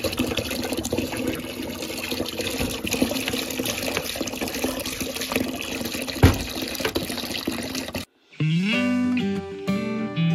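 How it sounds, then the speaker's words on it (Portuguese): A bucket fills with water from a tap during heavy house cleaning, giving a steady close rush of running water for about eight seconds, after which the water gives way to music. "Vou pegar o balde de água aqui pra mim poder já começar lá."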